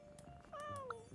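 A cat in the video game Genshin Impact lets out a single clear, drawn-out meow, close and alone over quiet background.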